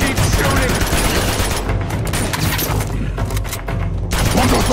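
Dense, sustained automatic gunfire from Uncharted 2: Among Thieves Remastered on PS4 Pro, with overlapping bursts and booms that stay loud and continuous throughout, while voices talk underneath.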